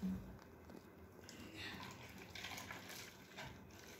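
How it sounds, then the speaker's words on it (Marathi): Water filling a plastic bottle for a hydrogen gas experiment, a soft continuous splashing and trickling that stays fairly steady and close for several seconds, with faint background noise and no talking. "ते मी पाणी भरतो आहे"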